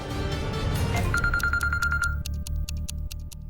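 A phone rings again and again during a Hindi TV drama scene. Rapid bright electronic pulses sit over a low, rhythmic repeating pattern.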